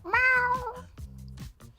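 An actress imitates a cat with a drawn-out, wavering meow followed by a shorter, lower one, close and clear.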